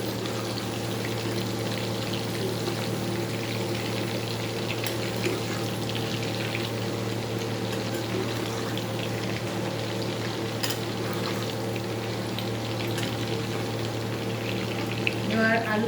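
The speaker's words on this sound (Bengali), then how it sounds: "আলু পটলটা ভাজা হবে।" Potatoes and pointed gourd fry in a pan with a steady, even sizzle and bubbling that continues unbroken throughout.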